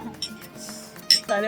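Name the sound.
glasses clinking in a toast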